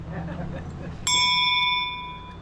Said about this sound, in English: That's an old school bell.